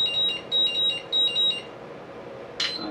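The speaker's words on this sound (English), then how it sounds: "there goes my battery alarm" An RC car battery charger gives a loud alarm: a rapid run of high electronic beeps in short bursts, a pause, then one more beep, with a low hum behind it.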